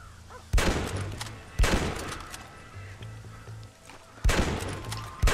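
Gunfire in Red Dead Redemption at a cornfield, three sharp loud shots spaced a second or more apart, each with a short echoing tail, over a quiet outdoor background with a low engine-like hum.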